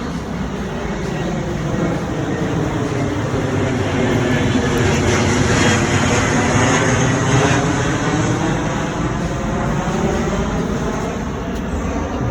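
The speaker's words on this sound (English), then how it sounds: "You can hear the plane" A fixed-wing airplane passes low over Valley Junction in West Des Moines, near the airport, as a loud, steady, rumbling roar that fills the whole stretch without letting up.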